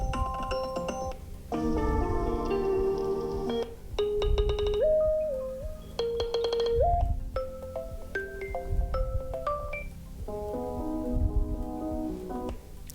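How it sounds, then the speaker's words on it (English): Ringtones from an iPhone 15 play one after another while the options are browsed in Settings: short melodic phrases, chimes and marimba-like tones, each cut off as the next begins, clear and close with no talking. "We also have the classic iPhone ringtones from back then."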